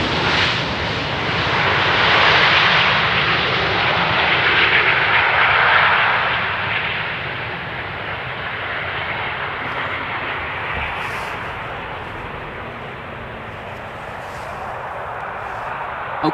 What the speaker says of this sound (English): Here's the Ryanair coming in from Dublin. Keeping up the speed and the nose wheel.